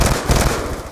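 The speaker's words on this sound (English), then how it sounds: "Friendly Hellstorm missile inbound." A Hellstorm missile detonating in Black Ops 2, a loud dense blast of crackling, rumbling explosion noise that fills the whole moment and slowly eases off.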